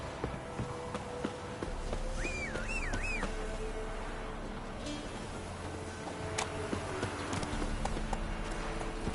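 Roach, the horse in The Witcher 3, clip-clops steadily through the clip in a continuous rhythmic hoofbeat, mid-distance under low game ambience, with a brief whistling tone partway through.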